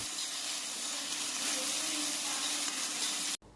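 Tender tamarind leaves frying in oil in a pan over a low flame make a soft, even, continuous sizzle up close. It stops abruptly at the end.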